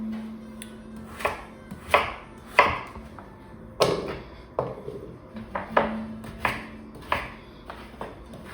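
A knife chops food into even chunks for a chunky duck dish puree, landing close, crisp thuds on a cutting board at a loose, uneven pace of roughly one or two per second, with no talking.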